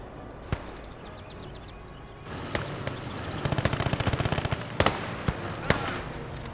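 Bursts of machine gun fire and scattered gunshots ring out in a video game firefight set during Operation Iskra on the Russian front, with rapid rattling volleys and a few sharp loud cracks over a steady background din.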